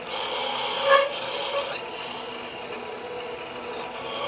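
Spindle gouge hollowing the inside of a wooden lidded box on a lathe, a steady raspy cutting noise with brief louder scrapes near the start, continuous and close.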